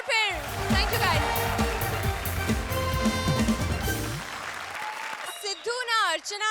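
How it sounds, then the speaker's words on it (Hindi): A comedy show audience breaks into loud, sustained applause and cheering, with a host's voice over it, fading out before short bursts of speech. "जोरदार तालियां एक बार फिर।"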